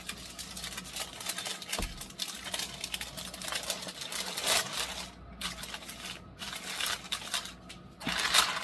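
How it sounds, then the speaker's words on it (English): Parchment paper crinkles and crunches as it is folded around a smoked brisket, close, continuous rustling with sharper crackles and occasional thumps. "This parchment paper is not as wide as butcher paper, so I'm just going to do the best I can with it."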